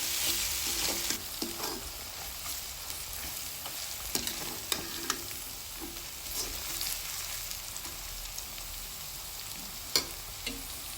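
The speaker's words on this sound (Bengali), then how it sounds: "এখন নেড়ে চেড়ে ভালোভাবে কষিয়ে নিব, ততক্ষণ পর্যন্ত কষিয়ে নিব যতক্ষণ পর্যন্ত না আদা রসুনের কাঁচা ভাবটা দূর হয়ে যায়।" Ginger-garlic paste for chicken biryani fries in oil with a continuous quiet hiss. Scattered light clicks and scrapes from stirring sit on top, and no one speaks.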